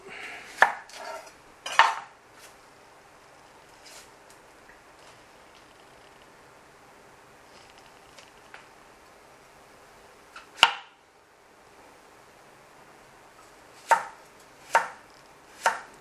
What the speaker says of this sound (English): So she's halved the onion and now slicing it up.